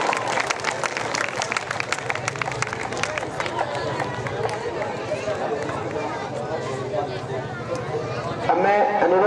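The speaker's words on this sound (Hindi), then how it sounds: "कृपया तालियां बजनी चाहिए इनके सम्मान में।" A crowd claps at a Ram Lila function of a Kumaon community sabha. The applause is continuous and fairly loud, with a voice speaking through a loudspeaker above it and a brief swell near the end.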